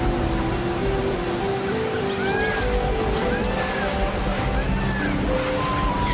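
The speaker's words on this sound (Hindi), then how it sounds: "कुछ ही दिनों में बारिश भी हो गई।" Steady rain falls in an animated cartoon scene as a soft, even hiss, while birds chirp lightly and gentle background music plays under it.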